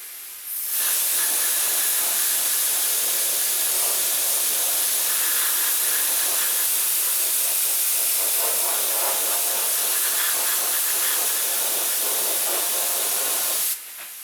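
A spray gun lays a sunburst finish onto a Rickenbacker 620/12 guitar body with a loud, steady, close hiss that runs unbroken for about thirteen seconds and then cuts off.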